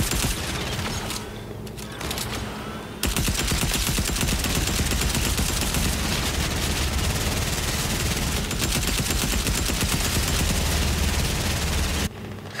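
Dense, continuous gunfire from submachine guns or pistols in Fortnite, a Red vs Blue lava match, with rapid rattling bursts that fill the clip loudly, a brief quieter stretch early, no talk.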